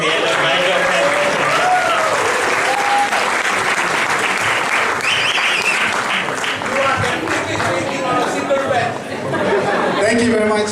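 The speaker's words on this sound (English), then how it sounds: "Another round of applause." Audience applause after a comic storytelling performance at a dinner dance, loud continuous clapping from a crowd mixed with chatter and voices throughout.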